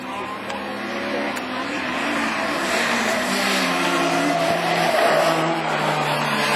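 A Peugeot 306 rallycross race car in a division 4 French championship race at Lessay, its engine droning loud and steady with a rising, sustained roar as it drives past.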